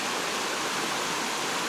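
Steady broadband rush of a stream flowing beside a hiking trail, an even, continuous wash of water at moderate level with no voices.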